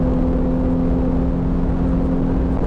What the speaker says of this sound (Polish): Naprawdę mam wrażenie, że on przyspiesza bez końca, ten samochód.